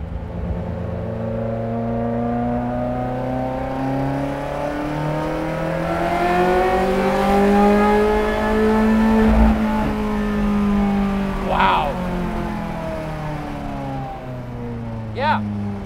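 A 1995 Ferrari F355 race car engine revs hard and loud on a track, pitch climbing and falling in long sweeps with quick sharp blips, close and continuous throughout.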